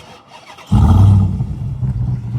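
A Ram TRX pickup truck's engine starts by remote auto start after a quiet moment, cranking to a loud, deep catch and settling into a rumbling, throaty idle nearby with no voices.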